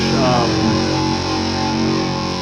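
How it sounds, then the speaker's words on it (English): Distorted electric guitar run through overdrive, with a messy, fizzy sizzle on top, ringing out as a dense sustained chord-like tone that fills the space evenly and fades slightly toward the end, no voices. "I don't like the sizzle as much."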